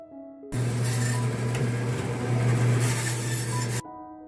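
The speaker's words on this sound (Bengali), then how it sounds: "এখন ভেটকি মাছ কাটা হচ্ছে" A machine saw cuts barramundi (bhetki) at a fish shop in America. It makes a loud, steady whine and grinding roar that runs for about three seconds, then stops abruptly.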